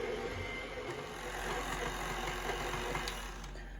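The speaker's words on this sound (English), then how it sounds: "we're going to use the whisk attachment and slowly stir that up" A stand mixer's whisk attachment slowly stirs honey and oil for unleavened bread, giving a steady, fairly quiet motor drone that holds evenly throughout with no talking.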